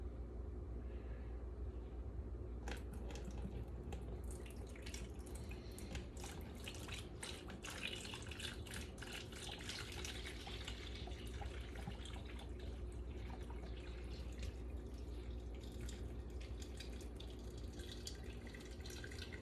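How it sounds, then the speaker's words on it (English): Vinegar pours and trickles steadily into a Bunn coffee maker, a continuous watery flow with small drips, close by, no talking. "So now I'm going to attempt to pour this in here."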